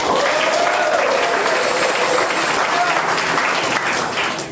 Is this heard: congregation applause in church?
yes